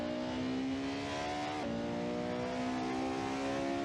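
A Porsche 918 Spyder's engine winds up at full throttle on the Spa-Francorchamps circuit in a racing game, a steady rising whine that drops briefly at a gear change and then climbs again, loud and continuous.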